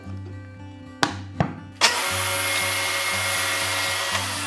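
A circular saw with a 3 mm blade and a splitter bolt behind it hums, gives a couple of knocks, then bites into wood with a loud, steady, rushing whine that holds to the end.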